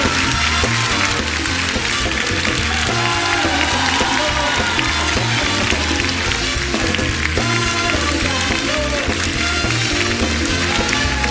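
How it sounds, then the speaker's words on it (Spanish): A studio audience at a variety show gives loud, continuous applause to welcome Paul Stanley, son of Paco Stanley, with the dense clapping filling the whole stretch. "lo recibimos con un fuerte aplauso"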